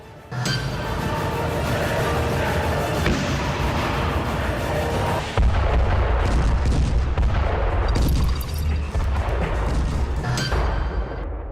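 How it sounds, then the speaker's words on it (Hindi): A T-90 main battle tank fires its 125 mm cannon, with booming blasts and crackling gunfire layered over continuous heavy rumble, loud and sustained throughout, a sharper surge arriving midway. "इस कैनन की मदद से अलग अलग तरह के गोले दागे जा सकते हैं।"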